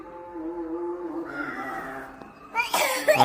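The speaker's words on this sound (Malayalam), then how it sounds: "കണ്ടോ ചുമയാണ്" A voice carries a few drawn-out tones, then a short burst of sharp coughing from a month-long persistent cough breaks in near the end, close and fairly loud.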